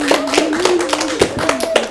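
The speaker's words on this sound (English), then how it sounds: "Let's give blue team a massive round of applause." A small group claps for the blue team in a classroom game, a short burst of quick, fairly close claps with a voice sounding over the clapping.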